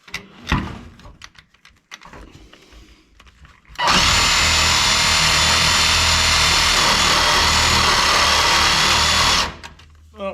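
A cordless Sawzall reciprocating saw fitted with an old, short, fine-tooth blade cuts through the floor pan of a 1967 Mustang; after a few faint knocks, a loud, steady buzzing rasp runs about six seconds and then stops abruptly.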